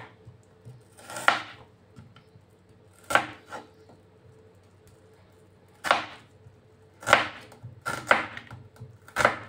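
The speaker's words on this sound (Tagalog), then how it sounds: "Yun, hiwa na tayo ng sibuyas." A knife chops onion on a cutting board in a home kitchen, scattered sharp thuds at close range, some single and some in quick pairs, with quiet pauses between them.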